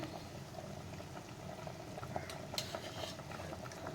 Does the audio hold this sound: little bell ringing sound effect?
no